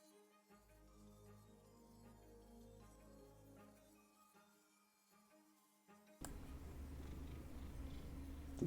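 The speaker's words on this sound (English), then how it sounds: "Does the mic pick up him purring?" A cat purrs close to the microphone, a low steady rumble lasting a few seconds, mixed with background game music that grows louder and denser toward the end.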